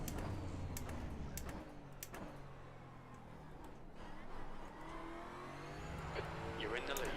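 Prototype race cars in a racing video game at the Red Bull Ring roar past one after another, engines revving and whooshing by amid steady engine drone, with a voice talking over the top.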